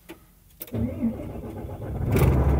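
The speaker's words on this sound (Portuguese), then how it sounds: "Acelera o carro, motorista" A car engine catches and then revs up, a medium engine growing steadily louder and rougher over a couple of seconds after a brief quiet start.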